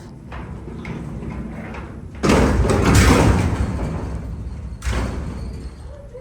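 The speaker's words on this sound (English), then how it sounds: "not as heavy like a lot of freight elevator doors I've dealt with in my life" A heavy freight elevator door slides and thuds shut twice, two loud broadband rumbling bursts over a low steady background hum, with no talking.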